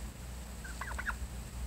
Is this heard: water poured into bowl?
no